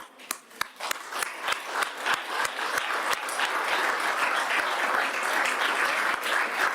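An audience breaks into applause at a meeting of the Ukrainian President with Bulgarian political representatives, scattered claps at first quickly swelling into steady, loud clapping from many hands that continues throughout.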